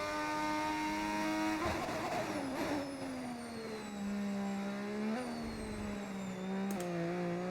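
Open-wheel racing car engines in the F1 25 video game, a loud sustained whine that sweeps up and down through gear changes with brief dips, continuous and close without talk.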